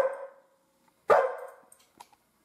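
A puppy gives two sharp barks about a second apart, the second louder and trailing off, followed by a few faint clicks, close by in an otherwise quiet room.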